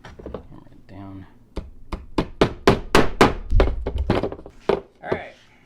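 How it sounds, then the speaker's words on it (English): A part is hammered down into a pinball playfield with a rapid run of sharp, close hammer blows on wood, some irregular and some in quick succession, after a brief voice at the start. "Hammer it down."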